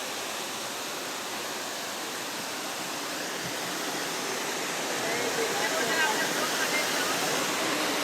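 A large waterfall at Dwarka roars as a steady, broadband rush of falling water, constant and fairly close, swelling slightly louder toward the end with no voices over it.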